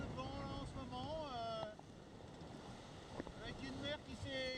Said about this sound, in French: On a un peu plus de 30 nœuds de vent là, en ce moment.